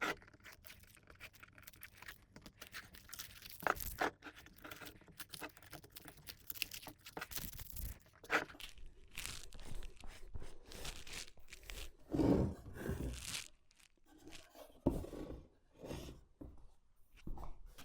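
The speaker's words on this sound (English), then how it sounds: "we can go ahead and peel this tape off and see what our corners look like" Masking tape peeled and torn from the mitered corners of a simple wooden card box, giving a run of crackly ripping and scratchy rubbing bursts, close and fairly quiet, with sharper tears near the end.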